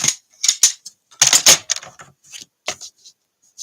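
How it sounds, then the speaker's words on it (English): A full sheet of cardstock being cut with a paper trimmer, crisp close clicks and slicing strokes in irregular short bursts separated by silence. "let's just cut one from a full sheet"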